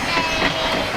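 A tram on Castaway Cay island rumbles close by in a short, loud, steady stretch of rolling vehicle noise with no talking.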